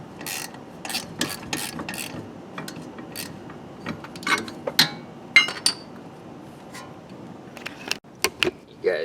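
A 14mm ratchet wrench removing a brake caliper on a Nissan S13 240SX, with rapid clicking ratchet bursts and metallic clinks spaced unevenly, close and sharp, no talking.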